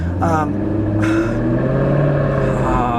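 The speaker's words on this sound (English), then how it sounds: "I could drink in that exhaust." A 2018 Jaguar F-Type R Convertible V8 engine rumbles and revs with a deep, throaty exhaust note, loud and close, swelling briefly in pitch before settling back to a steady growl.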